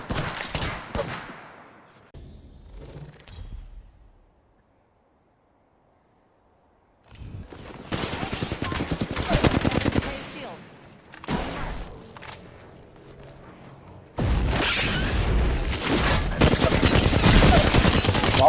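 Apex Legends gunfire in bursts of rapid automatic shots and heavy volleys, loud and close, with a quiet gap in between and dense sustained firing toward the end.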